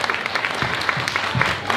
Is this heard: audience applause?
yes